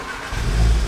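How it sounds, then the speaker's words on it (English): A Volkswagen Golf R 7.5 engine catches and starts, a brief low rumble swelling abruptly partway through, close and fairly loud. "let's start it up and see how it sounds"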